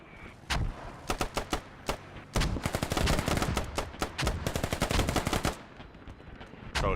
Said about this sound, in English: So exchanging some shots.